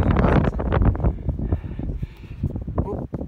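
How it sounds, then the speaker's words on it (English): Wind buffets the microphone with a low rumble on a steep hilltop in the Cheviot Hills while someone talks over it, breathless and close. "Oh, windy as can be."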